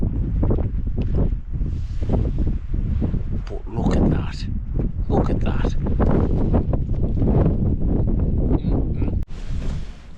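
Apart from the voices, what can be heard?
wind blowing on a hilltop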